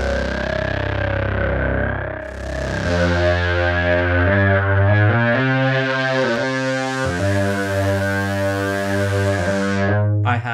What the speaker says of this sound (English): I have an LFO controlling the cutoff of this ladder filter. And then all of that together is creating this sort of like pulse width type sort of sound.